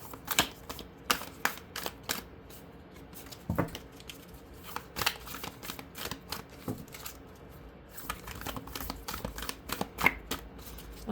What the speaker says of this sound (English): if it doesn't shuffle and nothing comes out, I'm splitting the deck